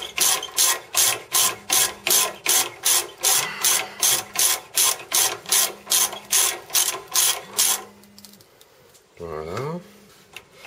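A ratchet wrench cranks rapidly on a brake caliper bolt of a Citroen C5 2.2 HDi during a rear brake pad change, a loud close run of regular clicks that stops, followed by a brief metallic squeak.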